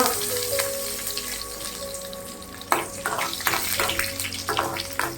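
Curry leaves and crushed garlic frying in hot oil for rasam, a steady close sizzle with crackling bursts and a few clinks, no voices.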